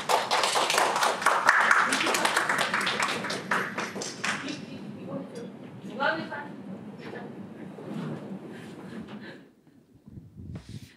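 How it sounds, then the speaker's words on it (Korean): Audience at an in-person Korean women's science and technology policy forum applauding as the association president is introduced: a burst of clapping that fades over several seconds, with speech and some tapping afterward. "큰 박수를 모시겠습니다."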